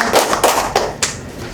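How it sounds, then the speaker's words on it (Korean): Audience at a national prayer meeting lecture breaks into a short burst of hand clapping, a few distinct loud claps and taps spaced out over under two seconds. "박수 한번 쳐줍시다"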